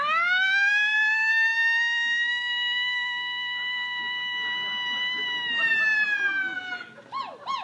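A man imitates a police siren with his voice, a long loud sustained wail held steady for several seconds and then sliding down, with a few short warbling yelps at the end.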